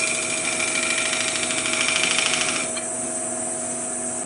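A round-section woodturning finishing tool takes shavings off wood on a lathe: a steady motor whir with a fine, rapid scraping chatter that stops partway while the lathe keeps running, close up and without speech.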